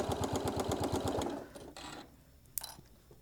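A sewing machine stitches fabric in a rapid, steady mechanical rhythm for about a second and a half, then stops, leaving a few quieter handling sounds and a brief sharp click.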